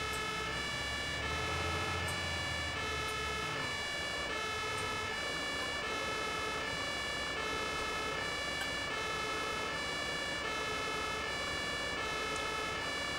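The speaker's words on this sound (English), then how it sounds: "Okay, I can turn the siren off now, I think." A fire engine siren in the Emergency Call 112 video game wails loud and steady throughout, with a repeating pulsing pattern over continuous engine rumble and road noise.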